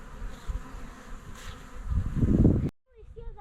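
Honeybees buzz steadily around an open Layens or long Langstroth hive, a close, continuous hum that swells louder as bees pass near, then cuts off abruptly; a person speaks faintly in the background.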